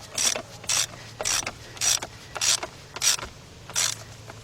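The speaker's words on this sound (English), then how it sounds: "Then I got my 10mm deep 3/8 drive with my 12-inch 3/8 drive extension and my 3/8 drive ratchet." A 3/8 drive ratchet turns a 10mm deep socket on an extension, tightening a bolt on a 1991 Toyota Corolla 1.6 engine: seven evenly spaced bursts of rapid clicking up close, with no talk.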